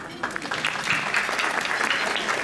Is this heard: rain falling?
no